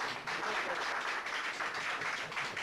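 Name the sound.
audience round of applause at book launch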